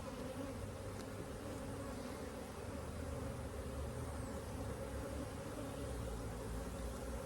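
Honeybees swarm around a hive late in the year before winter, a thick, steady, loud buzzing drone that never lets up, heard up close with no voices.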